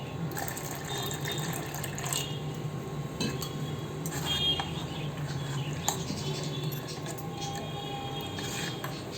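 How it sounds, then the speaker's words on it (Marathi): Water poured little by little into coarsely ground coconut batter gives a soft steady trickle with occasional light clinks of a vessel, fairly faint and continuous throughout. "आता आपण थोडं थोडं पाणी टाकून हे थोडं असं पातळ करून घेऊया।"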